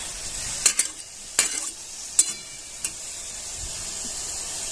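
Roasted peanuts and chutney are being stirred in a pan, with a steady hiss of sautéing and four or five sharp scraping clicks of the spoon against the metal, with no talking.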